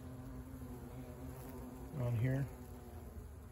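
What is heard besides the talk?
bees humming on a palo verde tree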